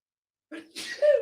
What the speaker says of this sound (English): You can keep talking while I sneeze in the background.